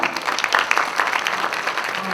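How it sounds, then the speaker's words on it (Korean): An audience in a university lecture hall breaks into dense, close applause to welcome a guest speaker for a talk on automotive technology, with some voices mixed into the clapping. "여러분 큰 박수 부탁드립니다."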